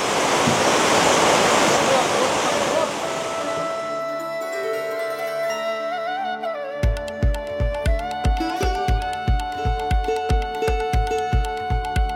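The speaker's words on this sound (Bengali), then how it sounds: "একটু চড়াইয়ে উঠে আরেকটা ঝর্ণা।" Waterfall along the steep Amarnath pilgrimage trail from Chandanwari, a loud broadband rush of water dominating the first few seconds, then fading as music with a steady beat takes over.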